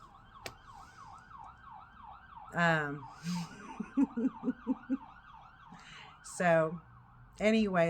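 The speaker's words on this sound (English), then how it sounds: "I apologize if you can hear in the background the sirens out front." Wailing emergency sirens pass outside the building, a rising and falling tone running steadily through the whole stretch; someone talks over them at times.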